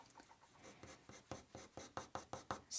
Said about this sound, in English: Now I'm going to go in with my 6B pencil